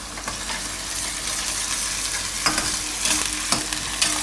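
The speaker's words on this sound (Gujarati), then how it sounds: "તો ગ્રેવીને પાકવા દઈએ થોડીક વાર." Gravy for a cauliflower and peas curry simmers and sizzles in oil, a steady broadband frying hiss with occasional louder crackles and stirring scrapes near the end.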